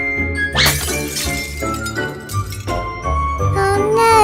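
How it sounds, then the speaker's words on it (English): A toy box smashing during toy train play with Thomas, James and Tom Moss: a loud burst of tinkling, clinking crashes and jingles over a bright musical backdrop, with no voices. "Oh no, I smashed the box."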